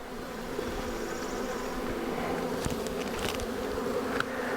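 Honey bees from a defensive colony buzz around an opened hive, a dense continuous drone with individual bees zipping close past at moments.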